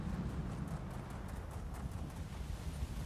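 A mount's hooves beat a fast, even clip-clop in The Elder Scrolls Online, the galloping horse steady and close for the whole stretch with no talking.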